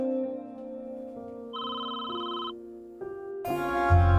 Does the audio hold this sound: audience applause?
no